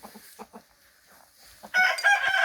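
Hens cluck in short bursts, then a rooster crows loudly and close, its bright drawn-out call filling the final second, on a longan orchard farm.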